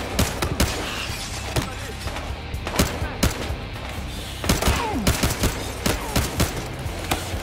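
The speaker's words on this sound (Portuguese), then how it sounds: "Quem tá atirando em mim que eu nem sei." Dense gunfire in Battlefield Hardline, loud repeated shots and bursts rattling through the whole stretch, close and sharp with brief gaps between volleys.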